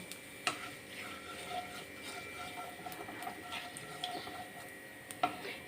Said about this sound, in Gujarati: રાઈ અને જીરુંને આપણે સરસ રીતે ચટકવા દઈશું